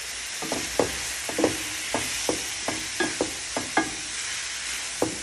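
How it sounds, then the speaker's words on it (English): Steak, mushroom and asparagus stir fry sizzles steadily in a hot pan, a constant frying hiss broken by regular soft scrapes and clacks of stirring. "this amazing steak and mushroom and asparagus stir fry?"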